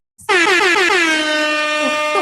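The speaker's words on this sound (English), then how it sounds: "Carrie Ludwig wants the air horn." A loud air horn blares in one long, steady blast that starts abruptly and holds for about two seconds.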